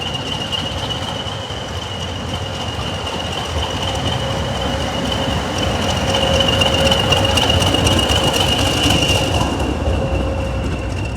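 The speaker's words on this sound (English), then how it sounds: "Here is London Transport livery 20142 in the adjacent platform at Bridgnorth, getting ready to shunt up to the front of the train" A Class 20 diesel locomotive, number 20142 in London Transport livery, shunts at a heritage railway station platform, a steady loud engine drone with a high whining tone and faint metallic squeal throughout.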